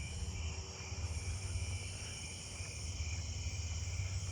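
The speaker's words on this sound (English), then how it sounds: "I'm hearing some jumping bush crickets all the way down through here." Jumping bush crickets chirp at night in a steady, faint chorus of high, continuous trilling tones, with a low background rumble and no voices.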